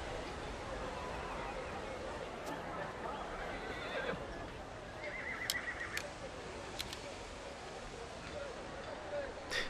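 Horses whinny and neigh amid a horse race setting in a historical drama, with clip-clop hooves and crowd murmur under a steady noisy backdrop, a few sharp high calls standing out midway.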